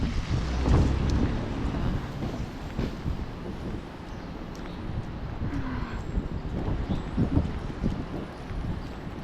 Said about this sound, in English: Right, a little windy, some rain.